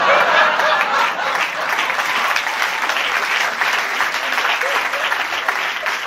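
Loud, dense audience applause at an improv comedy show in Rouen, a steady unbroken wash of many hands clapping close by from start to finish.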